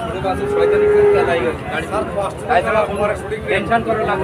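Calves moo at a cattle market, a long low call followed by further lowing, heard close alongside ongoing conversation.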